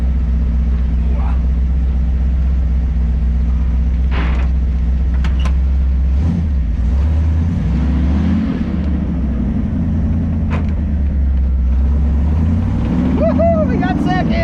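Toyota FJ40 driving in second gear after a synchro repair, its engine rumbling steadily and loud throughout, with a voice briefly speaking and a rising whine near the end.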